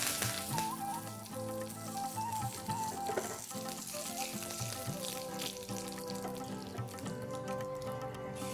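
Dry red chilies and curry leaves fry in hot oil, a steady loud sizzle running the whole way through under a dense, busy background, with no one speaking.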